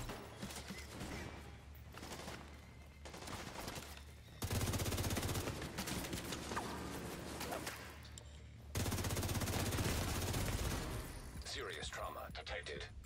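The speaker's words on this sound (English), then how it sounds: "I don't even see where the sniper is shooting me from" Rapid gunfire in The Division 2 during a sniper attack, sustained bursts of shooting in long loud stretches separated by brief quieter gaps, with a player talking beneath the noise.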